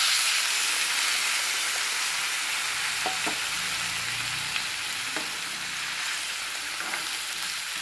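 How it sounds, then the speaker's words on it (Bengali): Water poured into a pan of egg curry gravy sets off a loud, steady sizzling hiss up close, with faint stirring clinks now and then and no talk. "এরপরে আমি এটাতে একটু জল দিয়ে দিই।"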